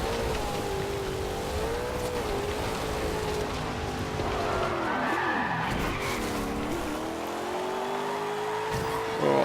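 A muscle car drifts on gravel in Forza Horizon 2, its engine whining and swooping in pitch as revs rise and fall, with a sustained gritty hiss of sliding tires throughout.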